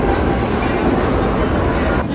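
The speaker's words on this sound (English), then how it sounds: "Let's get on the subway." A New York City subway train rumbles loud and close in a station, a steady low-heavy roar with metallic clatter that holds without pause.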